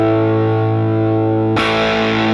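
Electric guitar with humbucker pickups played through a Fullerton cab, a sustained distorted chord ringing loud and alone, then a fresh, brighter strum cutting in near the end.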